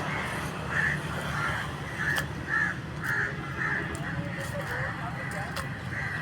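Crows caw near a river under thick trees, giving a series of harsh, repeated calls spaced roughly half a second apart over steady outdoor background noise.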